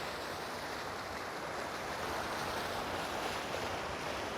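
Fast-flowing water rushes in a steady, broadband roar outdoors near a castle in Bavaria, Germany, loud and unbroken with no talk over it.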